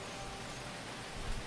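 Steady rain pours down on a hostile alien planet in the video game Phoning Home, an even hiss of drops on surfaces with a soft low thump near the end.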